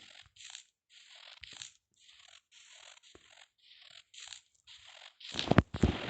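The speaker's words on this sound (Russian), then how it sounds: "И ухрупали по снегу. Снег прям хрустит." Footsteps crunch through snow in the horror game Metel, a steady series of soft, gritty crunches at an even walking pace, close and fairly quiet, ending in a couple of louder, heavier crunches.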